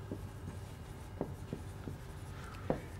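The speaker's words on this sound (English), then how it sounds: "So let's write that." Handwriting during a mathematics lecture on higher order derivatives, heard as soft, scattered scratching strokes at an irregular pace, with a few sharper taps and no talk.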